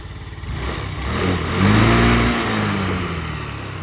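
A Yamaha BWS 49 four-stroke fuel-injected off-road scooter engine revs up close, holding a rising, steady mid-pitched drone that peaks and eases back slightly.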